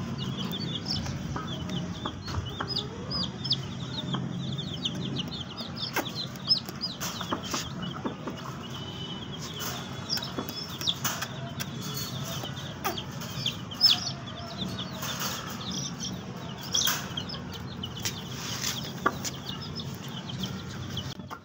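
Young chicks being lifted out of their enclosure peep and cheep in a steady, busy chorus of high chirps, with occasional louder calls and soft clucking close by, continuous throughout.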